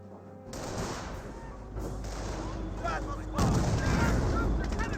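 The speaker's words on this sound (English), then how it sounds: "Fireman Squad does see a nice sniper shot there." Gunfire from a Company of Heroes battle, including a sniper rifle shot, crackles amid a dense, continuous wash of combat noise with booms and bursts, loudening toward the end under a commentator's voice.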